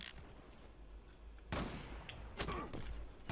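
Gunfire in the online shooter Zula, with two sharp, loud shots about a second apart over a low background din of game noise.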